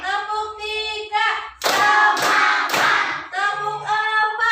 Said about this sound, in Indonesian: Tepuk 1, tepuk 2, tepuk 3,